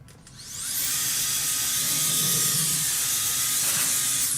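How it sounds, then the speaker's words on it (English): Compressed-air blower hissing steadily over a vinyl record to clear off dust, a sustained broadband rush that starts within the first half second and holds at an even, close level without any talk. "I'll get the blower onto it. It can't hurt to just give it a bit of a zap."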